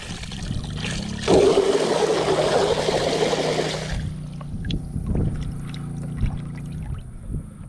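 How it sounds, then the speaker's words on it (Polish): A water pump kicks in as a garden tap is opened, with a burst of rushing water for a few seconds, then a low steady motor hum with scattered knocks and clicks. "odkręcimy sobie kran i zobaczymy czy pompa się włączy"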